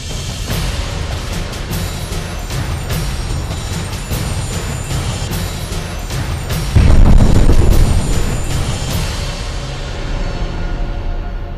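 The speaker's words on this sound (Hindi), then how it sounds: "तभी एक जोरदार धमाका होता है और सेना की गाड़ी समेत सब कुछ स्वाहा हो जाती है" A loud blast erupts partway through as an army vehicle is destroyed, a heavy low boom that swells and then fades, following a stretch of sharp crackling pops.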